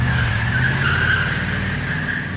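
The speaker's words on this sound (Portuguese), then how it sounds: "Combustível no tanque, pneus calibrados, ligando o carro para partirmos." A car's tires squeal in one continuous screech over a loud engine rumble, close and sustained without a break.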